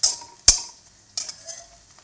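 Onion and curry leaves frying in a pan, stirred with a utensil: two sharp clanks of metal on the pan and a few lighter scrapes over a faint sizzle, close up with no talk.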